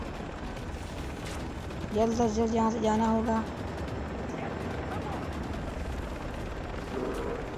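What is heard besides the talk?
helicopter firing bullets in Far Cry video game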